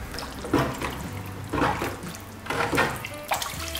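Thinned pottery glaze stirred in a container over low heat, close and fairly loud watery sloshing that swells in about three slow, rhythmic strokes over a low background hum, with no talk.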